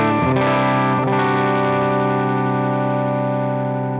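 A Fender Mustang 90 guitar played through a Marshall Plexi amp model on a Helix, set right at the edge of breakup, rings out as a couple of struck chords that sustain and slowly decay, gritty and slightly distorted, alone.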